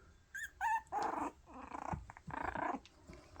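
A pet dog growls in short, close bursts during rough play, with a whimpering edge between the louder rumbling stretches.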